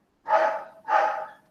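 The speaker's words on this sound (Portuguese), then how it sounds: "Tira o microfone do cachorro." A dog gives two quick barks in a row, close and fairly loud, with only silence around them, as if picked up by an open microphone during a remote class.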